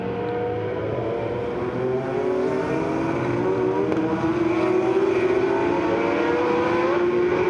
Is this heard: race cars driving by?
yes